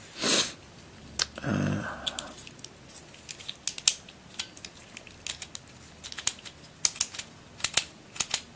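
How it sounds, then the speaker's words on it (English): Vintage Russian Varikon ball tower puzzle being turned by hand, giving a run of sharp, irregular clicks as each turn snaps into place, close and fairly faint, with a brief rustle near the start and no talking. "It has like a clicking mechanism. Each turn, you can feel it kind of snapping into place."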